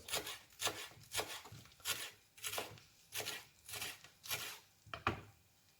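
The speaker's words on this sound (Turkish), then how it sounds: "Yine maydanozumu da ince ince doğruyorum." A knife finely chops parsley for kısır on a board, making about eight soft, evenly spaced rhythmic cuts close by and fairly quiet.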